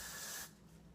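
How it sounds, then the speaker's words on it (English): Heavy hairspray sprays from a can onto hair in one steady, close hiss that cuts off halfway, leaving a faint room tone. "I'm going to spray it in that direction."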